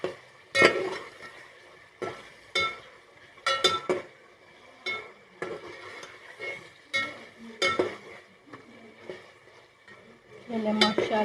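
A spoon stirring garlic-ginger paste into Cholistani chicken karahi, with repeated scraping and clinking strokes against the wok over a faint sizzle, close by and without speech.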